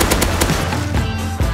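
Automatic gunfire in the video game Rust, loud rapid bursts of close shots in quick succession, with no talking.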